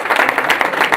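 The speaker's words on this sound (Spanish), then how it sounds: "Denle un aplauso a Jesús." A church congregation bursts into brief, loud applause for Jesus, a dense wash of many hands clapping at once for about a second.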